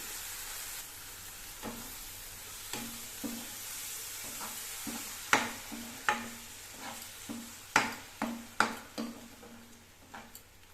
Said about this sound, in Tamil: மீடியம் சைஸ் ரெண்டு தக்காளி நல்லா ஜாரில் அரைச்சி வச்சுருக்கேன் இதையும் சேர்த்துட்டு நல்லா வதக்கி விடணும்